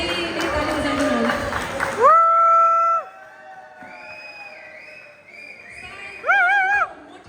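Dense clapping from an audience at a Dashain celebration in Guyane fills the first two seconds, then stops abruptly and gives way to sustained tonal voices or music.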